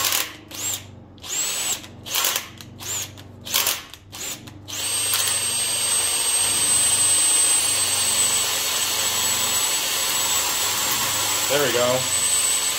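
A drill bores an oil passage in a 383 big block engine block, first in short stuttering bursts, then a steady, loud, continuous whine held at low speed. Someone speaks briefly near the start.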